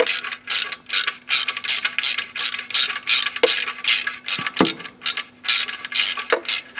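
A ratchet wrench clicks rapidly and rhythmically while undoing the exhaust heat cover bolts on a Peugeot 307, close and crisp, with brief pauses and knocks between strokes.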